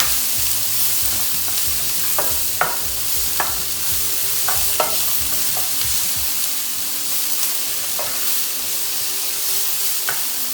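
Bell pepper and onion frying in oil, a continuous close sizzle broken by sharp scrapes and taps of a utensil stirring the pan at irregular intervals, no voices.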